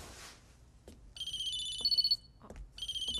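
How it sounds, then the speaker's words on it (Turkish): Telephone ringtone chirping in electronic bursts, first a longer ring and then a second starting after a pause, fairly faint under quiet room noise. "Abbas Bey'in telefonu buyurun."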